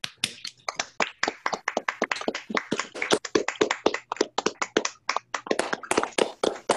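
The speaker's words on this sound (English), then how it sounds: "just give the round of applause we've been waiting for" Meeting participants applaud at a poetry reading, a brisk, uneven run of sharp hand claps and taps picked up close over a remote call, without any talking.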